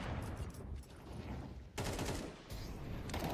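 Gunfire from a Counter-Strike esports match at a Major tournament, with bursts of shots and a dense fusillade of firing that continues through the clip, fairly steady and prominent.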